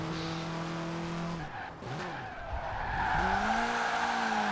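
A low-power Porsche 944 drifts in Forza Horizon 4, its tires squealing and skidding in long sliding wails over a steady engine drone, loud and continuous without talk.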